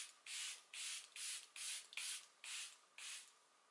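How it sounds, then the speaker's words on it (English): Makeup setting spray hisses onto a face in seven short, close bursts, each lasting about a third of a second, with brief quiet gaps between them. "I'm going to hold this little happy birthday card right here, and I'm going to spray my face."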